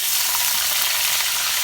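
Cooking oil hissing in a pan as frying starts for a dish of jackfruit seeds and taro stolons, a steady bright sizzle, close and fairly loud, with no talking.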